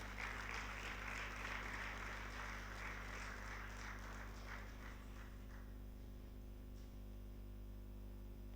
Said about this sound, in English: Please join me in welcoming him with a warm round of applause.